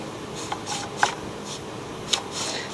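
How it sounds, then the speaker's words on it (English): A new starter rope is wound slowly back onto the recoil pulley of a Troy-Bilt engine, with faint scraping and a few sharp clicks and ticks spaced about a second apart, close up and with no talk. "Slowly wind in your new rope."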